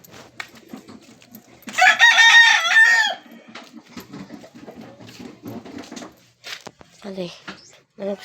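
A rooster crows loudly and close at a cockfighting arena in Iligan City, standing out clearly above busy crowd chatter and voices talking around it.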